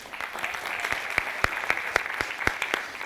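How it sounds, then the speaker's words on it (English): Applause from a small audience at a stand-up comedy class during a comedy festival, a thin scatter of individual claps, sharp and distinct, keeping a loose rhythm over a quiet room. "That might be our first applause break in a stand-up and learn class."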